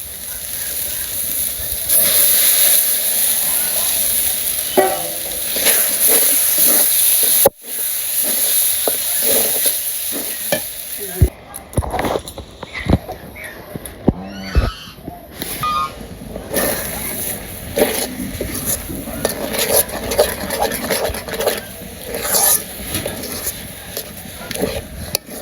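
Food frying and being stirred in a pan over a village kitchen fire, with steady sizzling hiss and scattered scraping clatters of the spoon, fairly close and loud throughout, with no speech.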